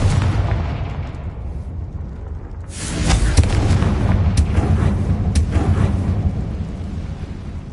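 A Confringo spell explosion bursts in Hogwarts Legacy, a loud rumbling boom rising from low rolling noise into a heavy blast with crackling debris bursts that trail on.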